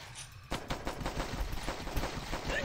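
Rapid automatic gunfire fires a steady, loud stream of shots against zombies in the video game The Last Stand, with no pause after the first half-second.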